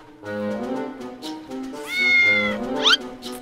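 A cat meows close by, a string of several drawn-out meows with rising and falling pitch, ending in a sharper, higher cry.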